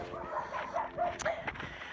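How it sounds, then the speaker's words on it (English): Two small Jack Russell terriers yip and bark faintly in short, high bursts over steady outdoor background noise near a cattle ranch. "These two little Jack Russells, they make a whole lot of noise."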